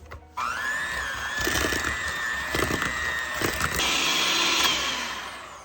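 An electric mixer creaming butter, eggs and sugar, starting abruptly into a steady high motor whine with scraping and knocking as the beaters hit the bowl, loud and close, with no talk.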